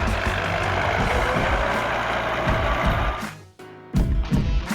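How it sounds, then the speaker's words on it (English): Cartoon bulldozer clearing garbage: a loud, gritty engine rumble with grinding crunches, briefly dropping away near the end before surging back. "Rumble, rumble, crunch, crunch, tough little dozer"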